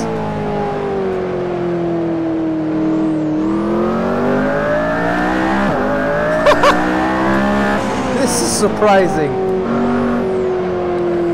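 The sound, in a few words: McLaren P1 engine driving in a racing video game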